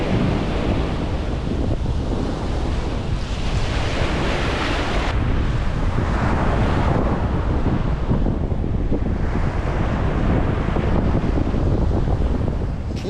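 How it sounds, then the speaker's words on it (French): Small ocean waves break on the beach at Hoi An, Vietnam, a continuous loud wash of surf with rolling swells and heavy wind buffeting the microphone, with no talk. "les vagues sont pas énormes, mais"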